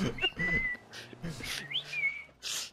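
A person whistles a few short melodic phrases, clear and fairly close, with faint background noise and no speech.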